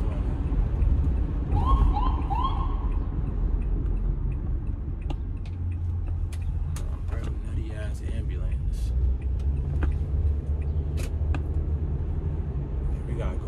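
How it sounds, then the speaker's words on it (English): Inside a moving car, a passing ambulance siren's rising wail sounds briefly over steady road rumble and engine noise, with scattered clicks throughout. "Nutty-ass ambulance."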